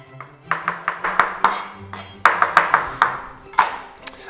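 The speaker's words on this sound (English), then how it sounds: "I'm going to just run a knife through them a little" A knife chops herb leaves on a cutting board for a watermelon, feta and chipotle salad, making a quick run of close, crisp taps in short irregular bursts with ringing clicks.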